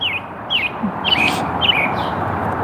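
Birds chirp outdoors in four short, bright, repeated calls spaced about half a second apart, set over a steady broadband background hiss.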